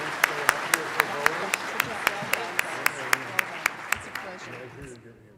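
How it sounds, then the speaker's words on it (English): A small audience at an annual general meeting claps in a sparse, evenly spaced rhythm of distinct sharp hand claps. The clapping fades out near the end. "Let's give them a round of applause."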